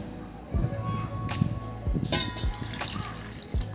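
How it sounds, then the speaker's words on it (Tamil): Water poured into a bowl to soak tamarind in a home kitchen, heard as a few soft splashes and trickles in short bursts, fairly close and quiet, with no talking. "தண்ணி கொஞ்சமாக சேர்த்து"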